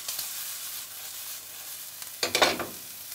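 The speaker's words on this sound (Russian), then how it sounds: "Здесь помешиваем." Zucchini strips and bacon stirred in a hot frying pan, a soft background sizzle broken near the end by a brief burst of scraping and stirring, close and fairly quiet with no talking.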